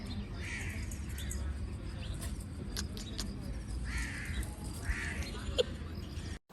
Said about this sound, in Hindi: और वहाँ उस तरफ कोयल है, यहाँ पर कौवे।